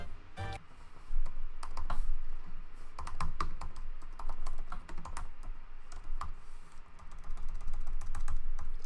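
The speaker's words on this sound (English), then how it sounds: "Ignore my clickety-clack of typing." Rapid clicking of keys on a computer keyboard during a game stream, irregular bursts of close, crisp taps with brief pauses, no one speaking.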